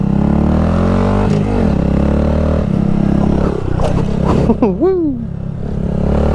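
Honda Grom motorcycle ridden near Fun Spot USA, its small engine droning steadily and close throughout with some scraping and clatter, while a rider's voice whoops near the end.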